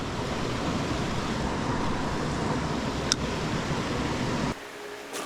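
A waterfall in the Blue Mountains roars as a steady, loud broadband rush that cuts off abruptly near the end.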